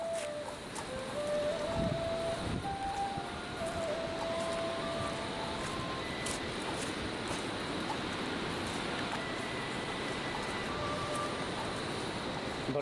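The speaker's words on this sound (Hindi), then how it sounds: "अभी तक यहाँ तक आपको आवाज़ सुनाई दे रही होगी उस रिवर की," A turbulent mountain river roars below a trail, heard as a steady broad wash of rushing water with wind buffeting the microphone, continuous and unbroken.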